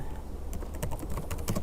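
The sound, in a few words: typing on a computer keyboard to write code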